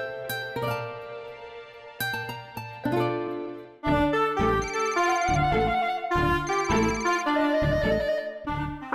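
A telephone ringtone plays as a loud, close melodic tune. It starts with a few short phrases and then becomes a continuous repeating melody with no talk over it.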